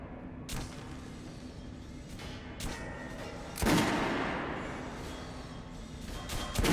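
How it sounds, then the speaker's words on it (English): Gunfire on a shooting range in a first-person video game: a few separate sharp shots ring out, then a louder, heavier blast with a decaying tail, over steady game background ambience. "Head over to my range and try out those guns."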